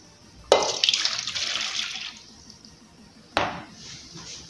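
Hot water poured into a single glass cup, two separate splashing pours, the first lasting about a second and a half and the second shorter, close and clear with no talking.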